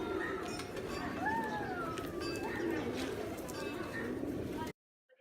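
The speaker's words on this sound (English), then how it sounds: "All the pigeons around the temple." Pigeons coo softly around a temple in Kathmandu, a few low warbling calls rising out of a busy outdoor background with voices talking nearby.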